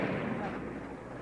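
Small charges go off on a miniature Death Star model during a filmed attack by rebel planes, a brief muffled burst of crackling pops, quiet and quickly fading.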